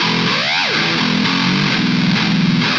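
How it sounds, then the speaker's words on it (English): A distorted electric guitar harmonic sweeps upward in a dubstep-style pitch glide, then drops and settles into gritty, wobbling sustained notes, loud and alone. "Let's just shoot this one up like a dubstep kind of pitch glide sort of thing"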